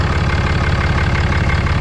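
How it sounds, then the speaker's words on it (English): A diesel engine idles steadily, a low rumbling knock repeating evenly throughout with no voices. "diesels always do have like a knocky sound"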